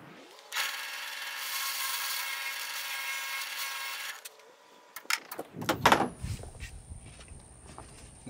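A drill grinds steadily through wood for several seconds, then winds down, followed by a few scraping and rattling handling noises nearby.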